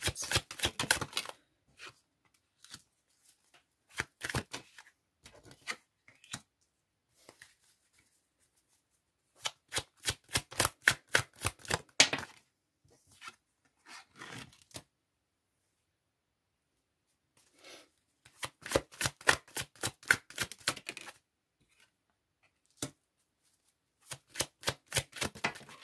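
Deck of tarot cards shuffled by hand in several separate bursts, each a fast rattling run of riffled card flicks, close and crisp, with silent gaps between rounds.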